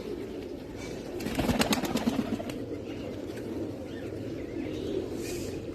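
A pigeon being let go, its wings flapping in a brief loud flurry of beats near the start, then calmer background with faint bird sounds; no talking.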